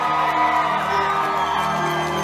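A live concert crowd at a show cheers and whoops continuously. The sound is loud and dense, with shouts and yells mixed into a sustained roar.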